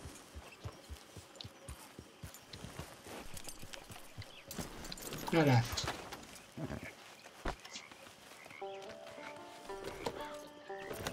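Horse hooves clip-clop at a walk in Red Dead Redemption 2, a steady rhythmic patter beneath game ambience, with a brief louder burst midway and a man's short remark in Finnish.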